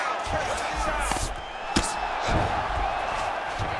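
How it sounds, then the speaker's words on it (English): A virtual arena crowd in the EA UFC 5 fighting game swells in a noisy roar of cheering beneath steady commentary, with a sharp thud cutting through partway along. "huge pop from the crowd as the fighters get back up to their feet"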